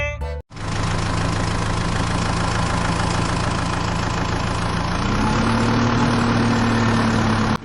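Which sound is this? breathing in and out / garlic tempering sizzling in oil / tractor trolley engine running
tractor trolley engine running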